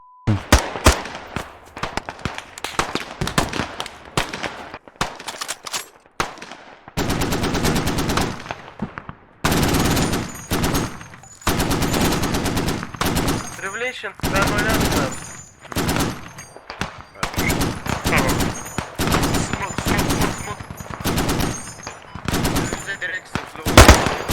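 Machine gun fire in the tactical shooter Squad, long bursts of rapid automatic shots alternating with short pauses, loud and close, with scattered distant gunfire between volleys.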